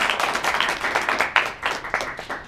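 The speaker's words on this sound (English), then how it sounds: "Big round of applause for Eric as our player." A live audience claps in a round of applause for a game-show player, a dense, steady patter of many hands in a room, rising and dipping slightly across a couple of seconds with no talk over it.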